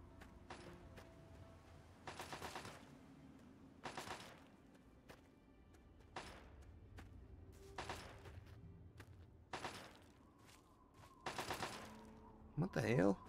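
Gunfire in Fallout 3 echoing against a wall, with several separate loud bursts spaced a second or two apart over a quiet ambient background and a final sharper burst at the end.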